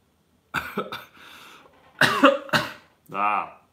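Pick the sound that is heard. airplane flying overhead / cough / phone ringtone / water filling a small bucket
cough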